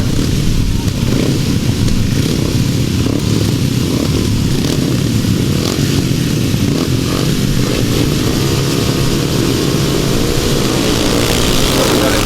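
Upright solo grasstrack racing motorcycles roar continuously at a grasstrack meeting, a loud sustained engine drone with rising and falling revs from bikes racing past.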